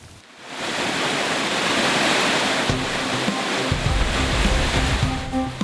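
Floodwater from a flash flood after heavy rain rushes in a loud, continuous roar, with low rumbling surges building midway as the torrent churns on without pause.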